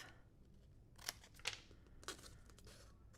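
Scissors snip through thin foam or cardstock for a foiled card, with three or four short crisp cuts spaced about half a second apart, close and fairly quiet over a faint background hiss.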